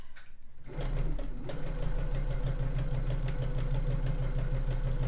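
Sewing machine stitching across a quilt seam on an hourglass star block starts up after a brief pause and runs in a steady, fast, even rhythm of needle strokes with a low motor hum, close and loud.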